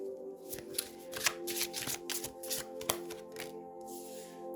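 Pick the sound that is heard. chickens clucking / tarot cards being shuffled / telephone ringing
tarot cards being shuffled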